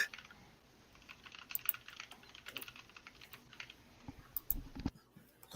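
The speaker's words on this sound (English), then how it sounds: "I hear you typing fast though." Rapid typing on a computer keyboard, a dense run of quick light clicks with a few heavier key strikes, close and steady for several seconds with no talking.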